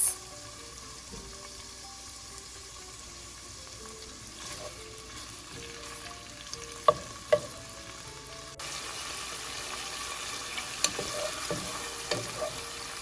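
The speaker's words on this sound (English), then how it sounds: "Add the petite sirloin tips and saute for about 3 to 4 minutes" Beef petite sirloin tips sautéing in a pot for bean stew, a low steady sizzle with a few sharp utensil knocks midway, quiet overall and swelling slightly louder toward the end.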